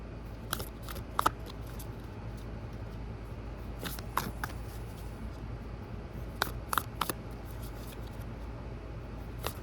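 Tarot cards riffled and shuffled in a few quick bursts, crisp and close, over a low steady room hum with no talking.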